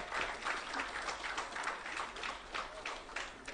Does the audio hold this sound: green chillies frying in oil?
no